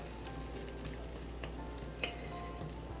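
Sweet potato cornbread batter hits a preheated skillet and sizzles softly and steadily, a faint even hiss with a few small pops.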